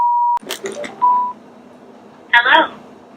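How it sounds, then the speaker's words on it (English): Sena 10R Bluetooth headset powering on and connecting: a steady electronic tone, then a quick rising series of beeps and a short single beep, followed by a brief synthetic voice prompt. "As soon as I turn my headset on, it connects automatically to my phone in a matter of seconds."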